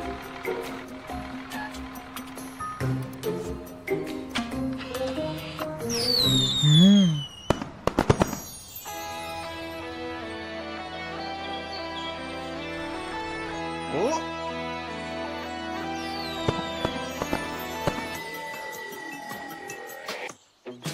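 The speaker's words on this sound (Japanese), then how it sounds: "花火だよ。" Cartoon fireworks in a kids' animated truck show: a rising whistle, sharp bursts and crackling pops over bright musical tones, with further whistling rockets and sparkles continuing throughout.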